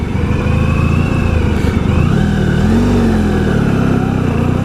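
A 1994 Honda ST1100 motorcycle cruising on the Long Island Expressway, its engine droning steadily and loud with wind and road roar, pitch rising and falling slightly as it works through the gears.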